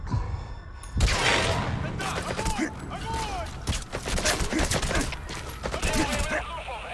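Video game gunfire rattles in rapid volleys of shots, loud and close, with bursts continuing throughout amid other game effects and a voice in the mix.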